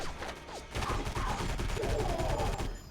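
Rapid gunfire in the video game Area 51 as the player shoots it out with soldiers, dense bursts of shots rattling close and loud for nearly three seconds with no voices over them.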